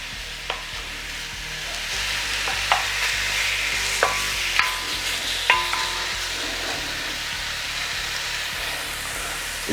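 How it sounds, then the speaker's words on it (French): Pork pieces brown in a hot pan for a pork sauté, giving a dense, close sizzle with a few sharp clicks and scrapes of a utensil scattered through, and no voices. "j'y mets ma viande. Là, on va venir la faire colorer sur toutes ses faces"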